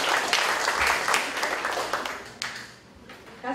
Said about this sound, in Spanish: Aplausos para Juan.